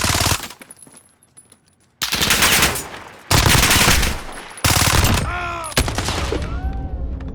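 Bursts of Vector SMG gunfire in Call of Duty Modern Warfare, loud rapid automatic fire in several separate strings, with short gaps between them and some game sound effects around the shots.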